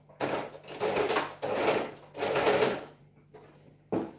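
Sewing machine stitching a half-inch seam in three quick close bursts, then a pause and the start of a fourth, moderately soft.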